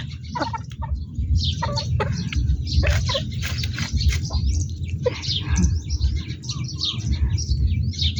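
A pair of fighting-breed chickens, rooster and hen, cluck and chirp in quick bursts over a low rumbling background, with several birds calling close by.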